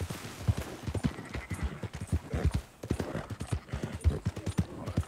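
A horse's hooves clip-clop in Red Dead Redemption 2, a quick even rhythm of close, distinct thuds at a steady walking gait.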